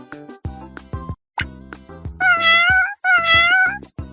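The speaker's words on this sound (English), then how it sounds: "Cat!" A cat meows twice, in clear, drawn-out, wavering calls that come close and loud after a few short plopping cartoon sounds, in a children's animal sound game.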